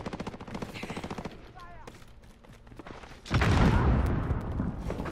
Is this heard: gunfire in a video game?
yes